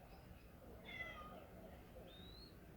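A house cat meows faintly somewhere nearby in a quiet room, with a pet bird present. A few soft, brief, high-pitched calls come through, and no one speaks.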